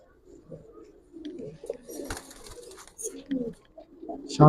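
Giribaz pigeons coo in low, throaty bursts scattered through the moment, close by, with people talking and other noise around them.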